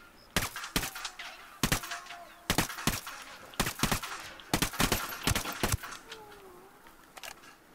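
Gunfire in the video game Ghost Recon Wildlands: a string of sharp, loud shots in irregular single bursts and short doubles, fired steadily across the span with faint ambient background between them.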